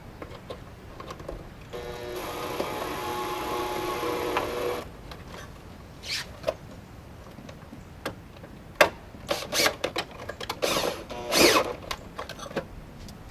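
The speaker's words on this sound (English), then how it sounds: "We attach it with these 2 screws." Power driver sinking screws to fasten an aluminum valley controller onto a rain gutter: one sustained buzzing whir for a few seconds, then scattered clicks and handling knocks nearby.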